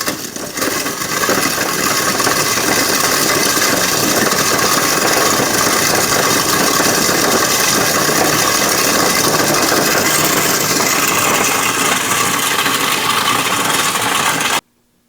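A homemade ball mill driven by a 24 volt motor runs steadily, a dense, continuous whirring and tumbling rattle of material inside the drum at constant loudness for about fourteen seconds before cutting off abruptly.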